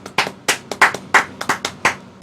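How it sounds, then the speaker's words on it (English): A small group claps briefly on a podcast for coach Mike Brown, about a dozen sharp, uneven claps scattered over two seconds at close range, with no talking. "can we get a round of applause for Mike Brown real quick?"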